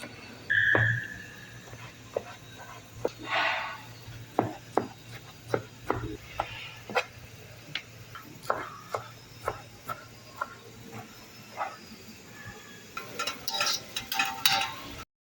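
Tomatoes for pasta are cut on a board with a steady run of sharp, evenly spaced knife chops at close range, followed by a brief clatter at the end.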